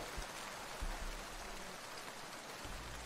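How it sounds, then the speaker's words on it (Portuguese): Heavy rain sets in as a steady, even wash of hiss with a low rumbling underlayer, quiet and unbroken, with no voices. "Uma forte chuva se iniciou."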